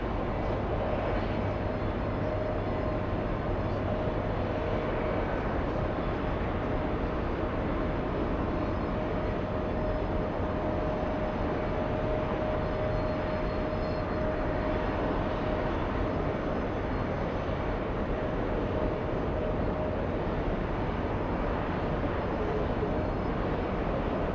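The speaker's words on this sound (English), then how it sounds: "We'll stay with Emirates. Landing up on 31 left." Emirates airliner landing on runway 31 left, a steady broadband jet roar held at a constant level throughout, distant and continuous with a faint tonal whine running through it.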